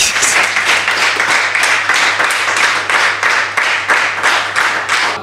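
An open mic poetry audience applauding, with dense, loud, continuous clapping in rhythmic waves of many hands and no talking over it.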